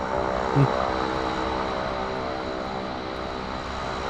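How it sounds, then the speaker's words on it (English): A propeller plane in Microsoft Flight Simulator 2024 drones steadily overhead with a constant buzzing engine tone, loud and close, holding level for the whole stretch. "I think somebody's in a prop plane and they're buzzing me right now."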